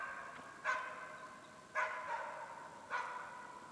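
A hunting dog barks at a squirrel up a spruce in an autumn forest, three separate barks spaced about a second apart, distant and echoing over quiet woodland.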